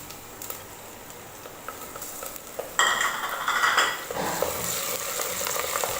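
Green chilies dropped into onions and garlic already frying light golden in oil, a steady sizzle that jumps louder and brighter as they hit the pan, with stirring and a few utensil clinks, no voices.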